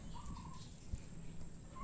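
Turkeys gobble and cluck nearby while feeding, over a noisy outdoor background, a short burst of fowl calls with a brief thump in the middle.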